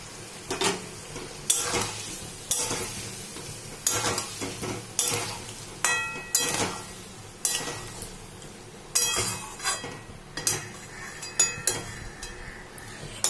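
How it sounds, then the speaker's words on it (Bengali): Sour curd and a handful of raisins are stirred into potatoes frying in a pan, giving repeated scraping strokes roughly every second over a steady close sizzle, with no voices. "এটা ফাটানো টক দই দিয়ে ভালো করে নেড়ে নেবো। তার মধ্যে দিয়ে দেবো এক মুঠো কিশমিশ"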